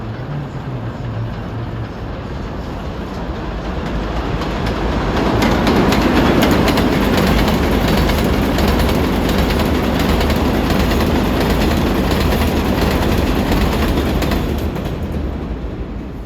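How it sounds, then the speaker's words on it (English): An R188 express train on the New York City 7 Line roars past, building from a distant rumble to a loud, sustained rush with rattling wheels, then easing slightly at the end. "And here we have another express coming out of this afternoon sunlight."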